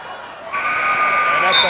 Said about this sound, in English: And at the buzzer, shot thrown up by Rhodes